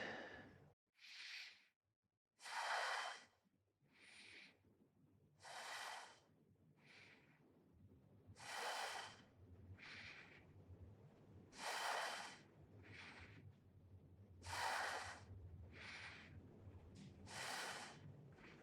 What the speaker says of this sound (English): let's breathe 6 times